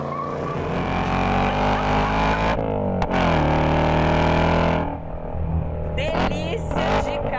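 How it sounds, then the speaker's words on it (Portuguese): Ford Mustang with a 5.0 Coyote V8 revving with a manual gearbox, a loud sustained engine roar climbing in pitch, dropping off near the end, followed by further throttle blips. "a gente escutar um V8 cantando, brincando com manual aqui"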